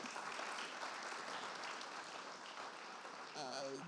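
Audience applause at a convention's opening session, a continuous broad clapping that is steady and fairly distant, with a voice starting up briefly near the end.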